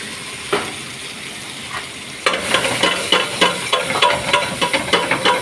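Onions fry in oil for a Gujarati dal tadka, a soft sizzle at first, then louder, busier crackling and rhythmic stirring scrapes in the pan, up close.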